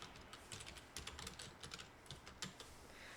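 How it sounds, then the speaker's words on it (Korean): Quiet irregular clicks of a computer keyboard being typed on nearby, in short bursts with brief pauses, faint and alone with no voices. "이제 적어볼게요."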